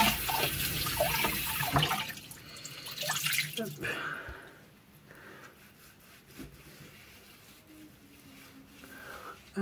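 Hot tap water runs and splashes while makeup is washed off the face, with dripping, rubbing and wet scrubbing sounds up close that are louder at first, then quieter splashes and drips.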